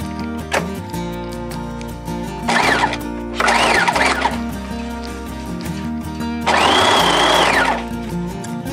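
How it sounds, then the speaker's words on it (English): A sewing machine stitching denim fabric, its motor whirring and needle chattering in several separate runs of a second or two, loud and close with brief pauses between bursts. "Now I'm gonna go back in and sew a cute little stitch so when I fold over,"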